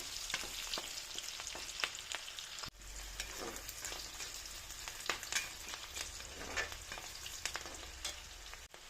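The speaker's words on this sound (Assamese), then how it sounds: "পিঁয়াজখিনি ৰঙচুৱা হ'লেকে ভাজি ল'ম মই" Onions frying in a pan, a close sizzling crackle broken by repeated sharp stirring scrapes and clicks of a spoon against the pan, with a short pause near the middle.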